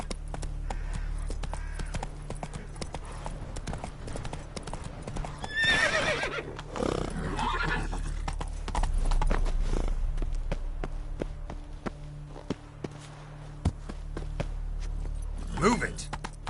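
A horse in the video game Witcher 3 trots with steady clip-clop hoofbeats, breaking into two loud neighs, one early and one near the end, with a voice speaking briefly over the hooves.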